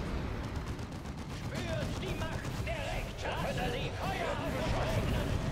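Gunfire and battle effects in the video game Warhammer 40k Dawn of War 2: Chaos Rising, dense crackling shots and impacts running continuously under excited German talk.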